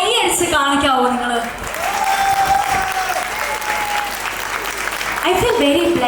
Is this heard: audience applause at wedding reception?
yes